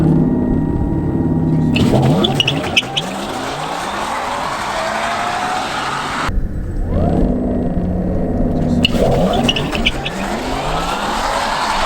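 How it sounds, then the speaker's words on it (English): A Porsche Taycan Turbo S launches down a quarter-mile drag strip, an electric whine rising steadily in pitch under loud rumbling road and wind noise, with a brief wheelspin at the start and a second rising surge later. "Launch activated, go. Oh, a little bit of spin, but man, this thing's moving."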